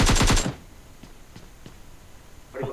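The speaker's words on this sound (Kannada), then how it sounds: "short gun" Shotgun gunfire in the PUBG video game: a rapid burst of several loud, close blasts in the opening half second, then a few faint thuds and a brief muffled sound near the end.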